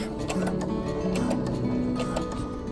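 A sewing machine stitching a pillow cover at a 2.5 millimetre stitch length, giving a rapid, even mechanical ticking and whirring that runs steadily and up close.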